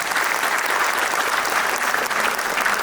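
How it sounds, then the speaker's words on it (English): Parents at a school annual day celebration applaud, a loud, continuous roar of clapping from a large crowd that stays steady throughout. "A round of applause, dear parents."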